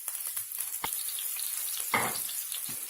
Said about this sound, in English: waiting half a minute for all of this to fry.